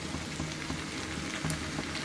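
Young jackfruit and potato drop into masala frying with prawns, setting off a steady close sizzle and bubbling with small crackles and a few soft clinks.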